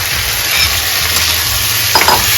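Vegetables hit hot oil for tempering in a pan, giving a steady close sizzle and frying hiss with stirring scrapes, then a brief louder clatter of the spoon near the end.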